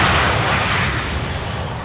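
An American Airlines jet from Charlotte, North Carolina taxis toward the main terminal at Louisville International, a loud, steady broadband engine roar that eases slightly over about two seconds, with no voices.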